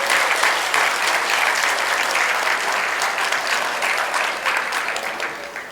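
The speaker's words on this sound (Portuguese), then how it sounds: "Pode dar uma salva de palmas para Jesus?" Church congregation applauding together, a dense, steady wash of clapping that fills the space and fades slightly toward the end, with no talk over it.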